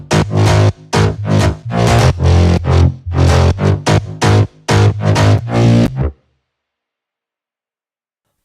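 A bass sample from an Ableton Live remake of a dance track plays as a loud, punchy rhythmic pattern of short bursts for about six seconds, then cuts to silence.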